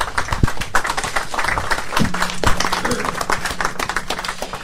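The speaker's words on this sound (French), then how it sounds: "on peut l'applaudir" Scattered clapping from a French conference audience after a talk on the local economy, a fairly close, irregular patter of hands with a brief low tone partway through.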